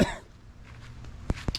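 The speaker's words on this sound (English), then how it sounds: "Clear my throat real quick." A brief throaty rasp opens the moment, followed by quiet room tone and two short, abrupt vocal bursts near the end.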